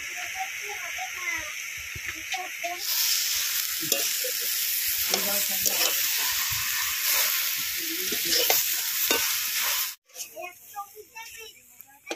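Tender taro leaves hitting a hot wok, a loud burst of sizzling steam that carries on while being stirred and scraped, then drops to a quieter sizzle near the end.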